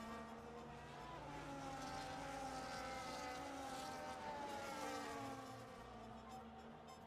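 Race cars in a racing video game trail a safety car around the Hungary circuit, several engines droning steadily and loudly with shifting pitch, close and continuous throughout.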